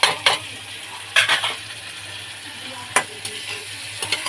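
Butter prawns frying in a pan with salt, sugar and green chilli, a steady sizzle with a few sharp scraping stirs of a spatula spaced across the stretch.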